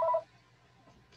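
Keypad dialing tones from an unmuted phone during a city council work session, a brief pair of beeps at the start followed by faint room noise.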